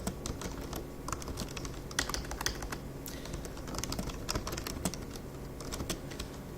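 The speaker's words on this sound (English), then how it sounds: "in the body, I will type the holiday hours" Someone types steadily on a computer keyboard, entering the body text of a message in a point-of-sale system, with rapid close key clicks throughout and no talking.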